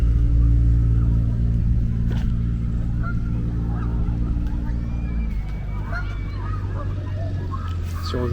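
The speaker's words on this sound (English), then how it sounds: "So all the ducks, swans, geese." Geese honk now and then at a park pond, with ducks and swans nearby, over a steady low rumble of traffic and a faint background murmur of voices.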